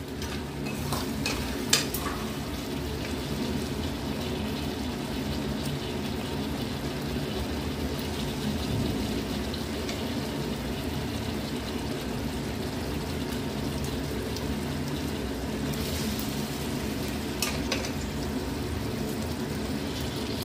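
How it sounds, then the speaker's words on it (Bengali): Chicken pieces stirred and fried with spice masala in a pan, a steady close sizzle lasting throughout, with a few sharp utensil clinks near the start and near the end. "মশলার সঙ্গে চিকেনটাকে মিশিয়ে দিলাম"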